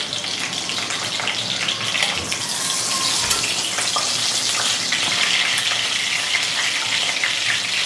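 Bay leaves, a piece of cinnamon and cracked cardamom pods fry in hot mustard oil, giving a loud, dense, continuous crackling sizzle that holds steady throughout with no talking.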